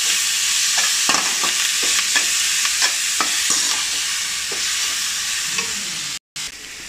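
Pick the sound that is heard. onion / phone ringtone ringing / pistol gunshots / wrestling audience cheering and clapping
onion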